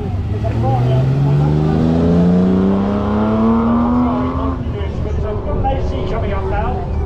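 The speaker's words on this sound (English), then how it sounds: "Coming up now, and Lovely raspy exhaust." A classic car's raspy exhaust roars close by at a hill-climb start line, its pitch climbing as the engine revs up, with a voice talking over the engine noise.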